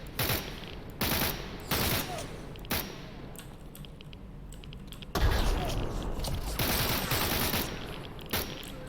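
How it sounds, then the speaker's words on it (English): Gunfire and blasts in STALKER, a shooter game, with several sharp broadband bursts at irregular intervals and a heavier, louder explosion about halfway through, followed by sustained rumbling noise. "That grenade was awfully close for fucking comfort."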